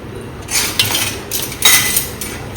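A metal spoon clinks and scrapes against a dish in several quick, close, bright taps and rattles, with no talking.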